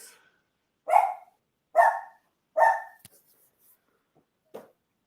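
Indoors, a dog lets out three loud, evenly spaced barks close by, then falls quiet before giving one fainter, shorter bark against near silence.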